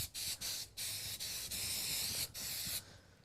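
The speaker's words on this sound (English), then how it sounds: "I'm going to lightly spray just a thin coat on the back of our stencil" An aerosol can lightly sprays a thin coat of adhesive onto the back of a reusable vinyl stencil, several close hissing bursts with short pauses between them, no talking.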